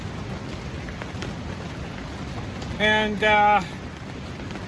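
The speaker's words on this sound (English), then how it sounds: "Pouring rain." Pouring rain drums steadily on a tent during a flood beside a river, a constant close hiss, with a short burst of speech partway through.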